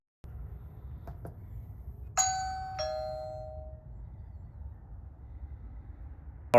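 A Wyze Video Doorbell Pro chime rings a clear two-note ding-dong, bright and close over a low steady background hum. A brief sharp sound comes at the very end.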